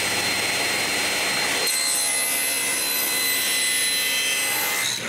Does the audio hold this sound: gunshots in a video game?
no